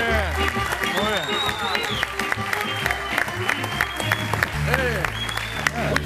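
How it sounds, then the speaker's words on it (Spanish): Audience applause for a man on a comedy television show, clapping mixed with lively voices and shouts in the crowd. "El aplauso para el caballero, muy bien."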